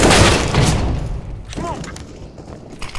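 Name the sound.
grenade explosion in a video game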